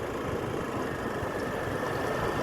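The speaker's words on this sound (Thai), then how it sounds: "นี่รถไถก็ไถไปนะคะ" A tractor engine ploughs a field, a continuous, even mid-range drone with no pauses, fairly close and steady.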